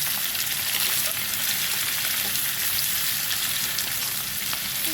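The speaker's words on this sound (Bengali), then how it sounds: "পেঁয়াজটাকে লাল করে ভেজে নেব।" Onions being fried until reddish in a pan with green chilli nearby, giving a continuous, close crackling sizzle at an even level throughout, with no voices.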